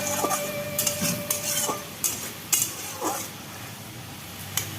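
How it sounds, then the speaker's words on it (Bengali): Spices being sautéed in a pan for a Bengali fish curry in a village kitchen. Sharp metal clinks and scrapes of a utensil against the pan repeat irregularly over a faint, steady background hiss. "মাছের ঝোলের জন্য মশলা কষাচ্ছি"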